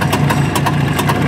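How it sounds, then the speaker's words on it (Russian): A heavily tuned custom motorcycle, the Jubileika Ludwig, runs at a steady idle with a rough, pulsing low rumble that is close and loud, with no talking. "Но очень прокачанный мотоцикл."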